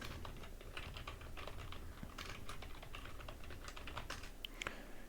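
Quiet, rapid typing on a computer keyboard, a continuous patter of light key clicks throughout with no talking.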